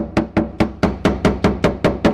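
Hammer tapping around freshly drilled holes in car body sheet metal, dimpling the edges before body filler: ten evenly spaced, close metallic taps in a steady rhythm, each ringing briefly, with no talk.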